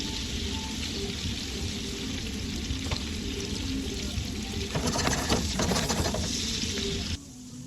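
Butter and seasoning sizzling in a pan with fish, a dense, steady frying hiss close up, briefly busier and louder with stirring toward the end before dropping off sharply.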